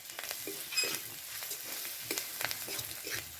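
Ground spices with ginger paste fry in a pan while being stirred: a steady close sizzle with a short spatula scrape about every half second, and no talking.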